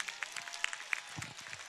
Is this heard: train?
no